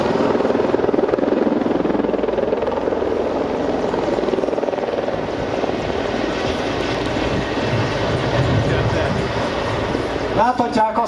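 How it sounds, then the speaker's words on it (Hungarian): An Mi-24 military helicopter flies in a demonstration, its rotor and engine roar loud, steady and close for the whole stretch, with a voice talking faintly underneath. "Ez a helikopter borzasztó szerteágazó képességekkel rendelkezik."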